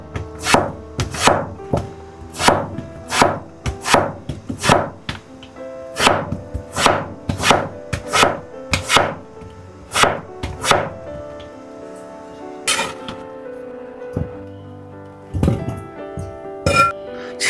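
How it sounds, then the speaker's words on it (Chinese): A kitchen knife cuts winter melon into even, moderately thick cubes, striking the board in a steady rapid rhythm of loud, crisp chops that slows and thins toward the end, close up with no talking. "再切成大小均匀、厚度适中的方块。"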